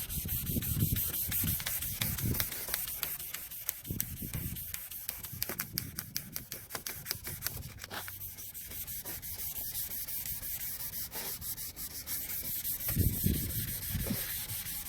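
Headlight lens being wet- or dry-sanded by hand with 1000 grit sandpaper, a continuous close scratchy rubbing with back-and-forth strokes and faint hissy texture, no talking.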